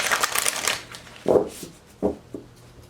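Tarot deck being shuffled by hand, a burst of papery riffling followed by a few short separate card slaps and rustles, close and moderately loud.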